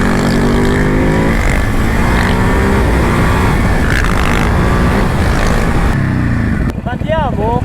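A Ducati motorcycle engine drones loudly and steadily while being ridden, a continuous close roar with shifting pitch, and a voice briefly breaks through near the end.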